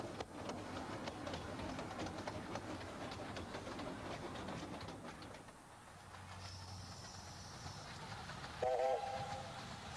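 Northern Rock train pulling away from Ravenglass station with a steady rolling rumble of wagons, a brief whistle sounding near the end, and birds faintly in the background.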